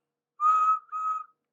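Two short whistle blasts, clear and tonal with a brief gap between them, standing in for a small narrow-gauge steam engine's whistle against silence.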